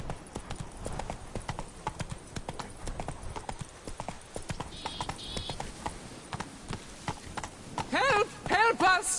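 A horse's hooves clip-clop in a rapid, steady rhythm in The Witcher 3, close and continuous, with a brief whinny-like call and raised voices near the end.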